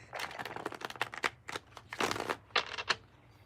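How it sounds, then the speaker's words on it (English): Tarot cards being shuffled briskly by hand, a quick run of crisp riffling and flicking bursts that speed up and pause, close and fairly quiet with no talking. "Mimi, I'm just shuffling the cards really good."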